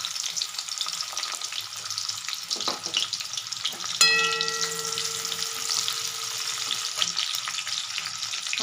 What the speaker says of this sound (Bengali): এখন দিয়ে দেব এর মধ্যে একটা মাঝারি সাইজের পেঁয়াজ